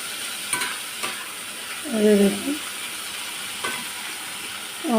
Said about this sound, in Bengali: ভাজা হয়ে গেছে নামিয়ে নেব এই যে আমার চিংড়ি মাছ ভাজা হয়ে গেল